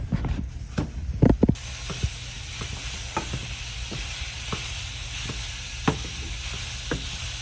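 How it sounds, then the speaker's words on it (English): Ground beef sizzles in a hot skillet with vegetable oil, a steady crackling hiss with a burst of stirring and scraping early on, then scattered sharp pops and taps of a utensil over the continuous fry. "Now with our hot skillet, we're going to put in our ground beef"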